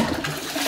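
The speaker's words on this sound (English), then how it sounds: "Toilet flush is fine." A short burst of rushing water, a toilet flushing close by during a house inspection, steady and fairly loud with no voices.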